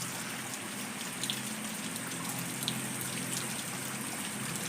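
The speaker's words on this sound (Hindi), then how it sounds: "पूरी बारिश हो रही है जम के" Heavy rain pours steadily at night during the Teej festival, a dense, continuous hiss with occasional louder drips and splashes standing out close by, no voices present.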